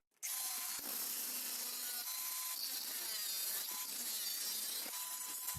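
A steady, continuous grinding of a power tool cutting the blades off a trimmer disc, held at an even level for several seconds with slight changes in pitch.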